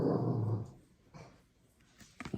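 A dog growls low and rumbling for about half a second, then gives a few faint whimpering and snuffling sounds at low volume.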